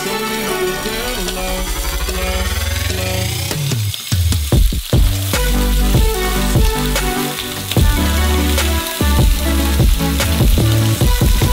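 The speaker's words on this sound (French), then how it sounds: "la première chose à frire sont nos côtes de bœuf. Nous le faisons à la puissance maximale de la cuisinière" Beef ribs fry in a pan on a stove at full power, giving a loud, continuous sizzle and crackle with sharp spits and pops throughout, mixed with a steady tonal layer.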